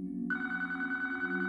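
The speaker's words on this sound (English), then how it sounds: "the phone started to ring" A telephone bell rings in a steady, sustained electronic tone that starts abruptly and holds, moderately loud and alone.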